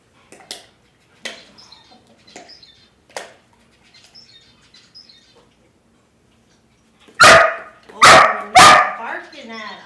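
A dog barks in a quick volley of three loud, sharp barks close by, following a run of scattered softer yips and chirpy noises.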